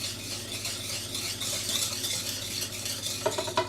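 Warm milk being whisked into egg yolks for vanilla crème anglaise, a soft continuous swishing and stirring in a bowl with faint liquid sounds, ending in a few light clinks of the whisk against the bowl.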